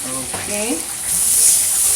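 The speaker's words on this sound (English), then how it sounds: "But right now we're going to finish frying it." Fried chicken sizzles steadily in hot oil as a home cook finishes frying it, giving a close, bright hiss that grows louder toward the end, with a brief voice over the start.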